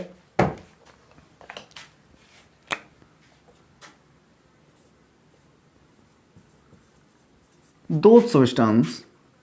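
Marker or chalk scratches across a board in a physics class, a few short separate strokes in a quiet room, followed by a brief burst of a voice speaking.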